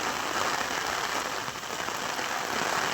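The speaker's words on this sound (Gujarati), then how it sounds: "દસથી બાર ઇંચ વરસાદ પડી ગયો છે સવારથી બારીશ ચાલુ છે" Dense, steady monsoon rain pours down over farmland in Agiyali village, Bhavnagar, a continuous broadband wash, loud and close, with no voices.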